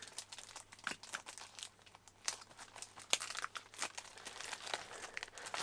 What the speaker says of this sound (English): it sounds like the disc is sliding around